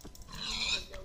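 A pig in the Minecraft video game gives a short grunting oink, a single brief sound at moderate volume with no talk over it.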